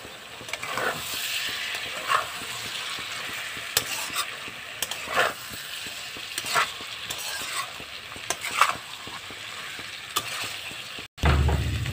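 Continuous soft sizzling of bitter gourd frying with prawns in a pan, punctuated by repeated scraping stirs of a spatula, no voices.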